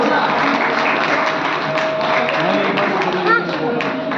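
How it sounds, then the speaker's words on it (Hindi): A crowd at a political rally keeps up continuous clapping, loud and dense throughout, with a few chants and voices rising through the applause. "तालियां बजाते रहेंगे आप लोग"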